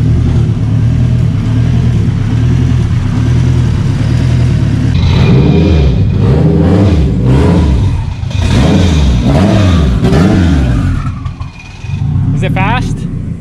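An AWD Honda car engine revs hard and close, its deep, throaty note climbing and falling through several repeated blips over a loud rumbling idle, with people talking over it.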